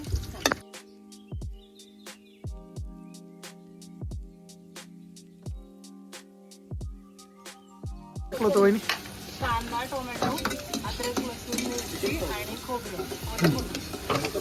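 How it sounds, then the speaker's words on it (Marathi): Curry masala fries in oil in a pan over a wood-fired chulha on a rooftop terrace. After a quiet, tonal opening, a dense crackling sizzle swells loud and stays steady, with people talking over it. "बघा हा मसाला आहे पूर्ण आपल्या करीचा तेलामध्ये आणि व्यवस्थित असा एकदम पणे भाजून घ्यायचं आहे"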